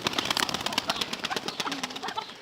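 Several pigeons, including a young bird, coo softly and continuously nearby in a village dovecote, with rustling and occasional wing flutters mixed in.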